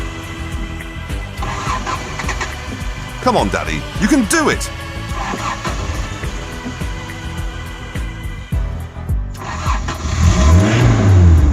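Engine of a cheap, recently broken-down Toyota 4Runner cranking, catching and revving after new battery lugs are fitted, rising and falling loudly up close while people talk and cheer over it.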